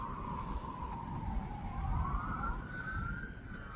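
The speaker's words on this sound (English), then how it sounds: "some police sirens going on down there" Police sirens wail far off in the distance, a steady rising and falling tone under outdoor background noise, heard just before a hurricane makes landfall.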